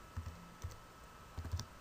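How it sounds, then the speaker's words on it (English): A few soft keystrokes tap on a computer keyboard, close and faint, spaced unevenly over a quiet room tone with no speech. "hit Enter on your keyboard"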